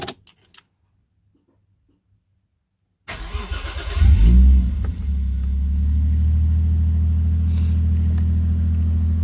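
Toyota JZX100 engine cranking over and catching after a short silence, surging to a loud rev, then settling into a steady, deep, rumbling idle close by.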